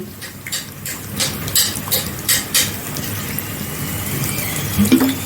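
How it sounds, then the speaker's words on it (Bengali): Cold water splashes onto wood apple pulp in a bowl for a summer sharbat, a close run of uneven pouring and sloshing bursts that gives way to a steadier watery hiss. "বেল ছাড়ানো হয়ে গেছে, এখন আমি ঠান্ডা জল দিয়ে দিচ্ছি।"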